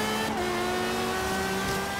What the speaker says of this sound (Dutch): Oh, de geluiden van de Clio.